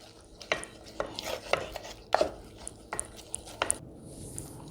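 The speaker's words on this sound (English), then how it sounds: "So you want to stir this the entire time." Homemade play dough being stirred in a pot on a stove, heard as a series of uneven, close scraping and clacking strokes of a spoon against the pot, with quiet pauses between.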